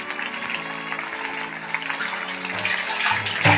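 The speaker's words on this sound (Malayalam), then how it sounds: "നന്നായിട്ട് ഫ്രൈ ആവട്ടെ." Chicken frying in hot oil, a steady fizzing sizzle that builds slightly toward the end, close and continuous with no talking.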